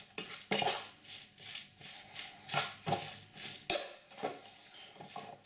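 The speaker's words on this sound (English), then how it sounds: "Give it a stir again." Spatula stirring bubble and squeak in a frying pan, a series of clattering scrapes and knocks against the pan in an irregular rhythm, close and fairly quiet.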